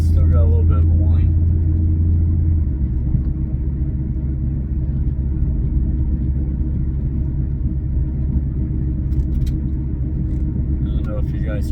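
Steady low rumble and faint drivetrain whine from a car driving along after upper control arm and pinion angle adjustments, continuous and fairly loud inside the cabin, with a brief voice at the start.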